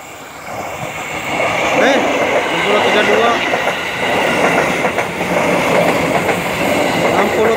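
A KRL commuter electric train, series TM 6032, rolls past on the rails with a loud, steady rumble and clattering wheel noise close by, a motor whine rising over it, while people talk underneath.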